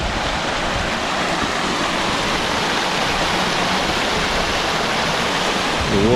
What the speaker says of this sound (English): The waterfall there, very pretty.